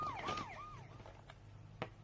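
A wailing toy fire truck siren from a talking children's book rises and falls in electronic sweeps, fairly faint over a steady low hum, followed by a short click.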